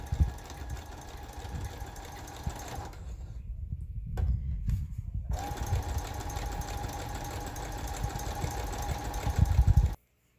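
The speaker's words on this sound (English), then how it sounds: "I just prefer the zigzag stitch so that it will be firm" A sewing machine runs zigzag stitches on a cloth face mask, a close, rapid mechanical whirring that pauses briefly in the middle, then resumes steadily before stopping abruptly.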